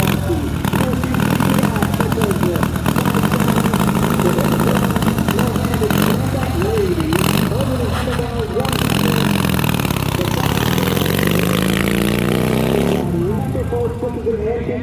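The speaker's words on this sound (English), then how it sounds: "This is an ancient 1930 Indian Scout" A 1930 Indian Scout motorcycle engine runs loud and steady at a speedway stunt show, revving with rising and falling pitch, under a loudspeaker voice.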